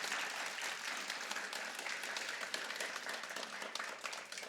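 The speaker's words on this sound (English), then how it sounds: "let's give all our specialist subject winners another round of applause" Steady applause from a school assembly audience of children and staff at a grade 4 celebration, a dense continuous patter of many hands clapping throughout at moderate level.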